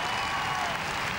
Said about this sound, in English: and the crowd showing their appreciation